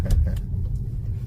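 A Volkswagen Golf 7 GTE on a road test, its low rolling rumble and road noise steady from inside the car, with a few brief knocks near the start and no talking.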